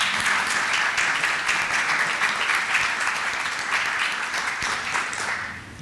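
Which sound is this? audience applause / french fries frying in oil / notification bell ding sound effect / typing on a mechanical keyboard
audience applause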